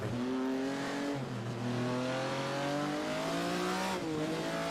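A Ferrari 488 Challenge Evo race car in a racing game on the Zandvoort circuit, its engine revving up and down through gear changes with rising whine, loud and close, with a faint tire squeal.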